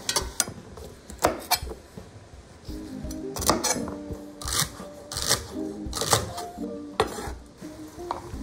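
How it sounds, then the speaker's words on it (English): Sliced carrots are tipped into a cooking pot with onions, giving a run of irregular clattering knocks and scrapes of vegetables and utensils against the pot, close and fairly loud. "So we have 2 cups of carrots. They go right in with the onions."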